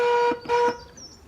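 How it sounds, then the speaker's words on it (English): A failing stock truck horn sounds two short, close honks with a strained, thin tone, the second slightly longer, then fades to quiet background. "The stock horn now is on its way out, so I'm a little bit desperate."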